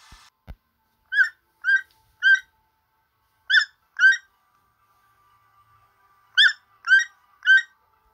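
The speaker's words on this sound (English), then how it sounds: "Owls." An owl calls in short, clear bursts set against silence: eight calls in groups of three, two and three, each crisp and close, after a brief click at the start.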